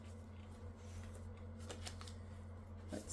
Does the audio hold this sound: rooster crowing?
no